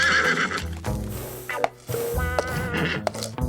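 Cartoon horse neighing and whinnying loudly, an animated Western cowboy's jealous mount, with a bright drawn-out call, a sharp break mid-clip, then further whinnies and snorts over a busy music-like background.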